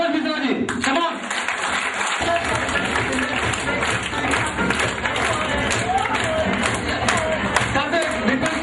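An audience applauds an achiever at a gathering, with steady, dense clapping and crowd noise that carry through the whole stretch.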